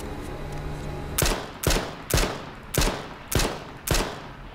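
Six sharp gunshots ring out in the survival video game H1Z1, spaced roughly half a second apart in an uneven rhythm, each loud and close with a short decaying tail over a low ambient hum.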